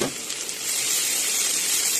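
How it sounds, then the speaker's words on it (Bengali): Chopped onion and poppy seeds fry in hot oil in a kadai while a Bengali mustard hilsa curry is cooked, giving a steady close sizzle and hiss for a couple of seconds. "প্রথমে পেঁয়াজ দিলাম, পেঁয়াজটা নেড়ে চেড়ে ওর মধ্যে দিয়ে দেব পোস্তদানা"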